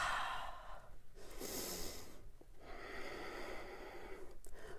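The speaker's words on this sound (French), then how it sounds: "Et on respire." Steady, audible breathing during a seated yoga twist in a calm class, a long inhale-exhale with a soft nasal snort-like push in the middle, close to the microphone with no talking.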